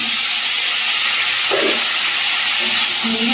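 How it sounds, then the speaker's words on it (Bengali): Cut eggplant, potato and bitter gourd for Bengali shukto hit a hot pan, giving a loud, steady, close sizzling hiss throughout. Brief faint voice-like sounds come through under the frying. "এখানে বেগুন আলু উচ্ছে একসঙ্গে কাটা আছে দিয়ে দেবো।"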